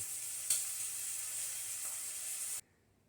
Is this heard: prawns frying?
yes